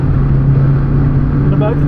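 From inside a 100 bhp Volkswagen Golf 3 on winter tyres at the Zandvoort circuit, the engine gives a steady, close droning hum under acceleration, and a voice briefly cuts in near the end.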